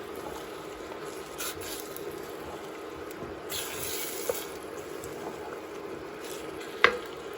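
Water spinach greens fry down in a pot for Liberian chicken greens and are stirred now and then, giving a soft, steady sizzle with occasional scrapes and one sharp utensil clink near the end.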